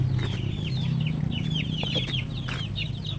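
Heritage chickens forage in a muddy backyard farm, giving repeated clucks and short calls at moderate distance over a low steady background hum.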